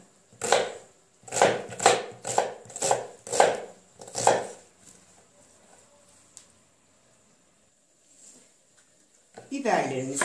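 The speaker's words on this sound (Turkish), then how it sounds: "Soğanımızı küp küp doğrayalım" A knife dices an onion quickly on a board, about eight crisp, evenly spaced strikes close by, followed by quiet and a brief voice at the end.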